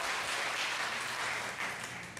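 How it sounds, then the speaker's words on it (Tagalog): A church congregation breaks into applause, a soft, even patter of many hands clapping at a distance that swells slightly and then tapers off near the end. "Isang malakas na palakpak sa Panginoon"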